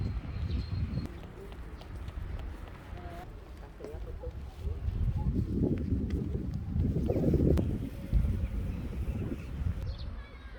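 Wind gusts buffet the microphone outdoors behind a church, producing a low, rumbling roar that swells and eases over several seconds, with faint background sounds and no clear speech.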